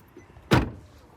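A Ferrari 458 Spider's door thumps once, a single loud close standing alone in a quiet moment.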